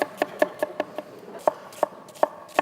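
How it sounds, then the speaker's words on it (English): A knife chops a red onion steadily on a cutting board, about a dozen crisp taps in an uneven rhythm, fairly quiet and close. "Chop up a red onion."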